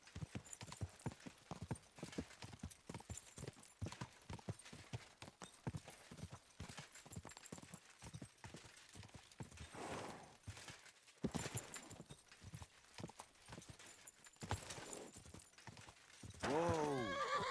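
Steady clip-clop of horse hooves at a walking pace in the video game Kingdom Come: Deliverance II, loud and close, ending with a high, drawn-out whinny.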